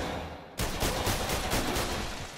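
Gunshots at a shooting range in a PlayStation VR game: after a brief lull, a loud, dense burst of rapid fire erupts and continues with a pulsing rhythm to the end.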